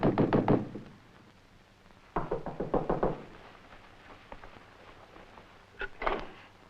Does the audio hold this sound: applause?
no